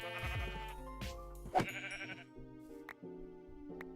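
A sheep bleats several times in Minecraft over a steady electronic music backdrop, the calls wavering and close, with a sharp pop in the middle.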